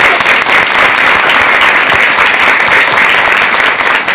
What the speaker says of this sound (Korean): 여러분 이럴 때 박수 한번 좀 보내드려야 되지 않을까요?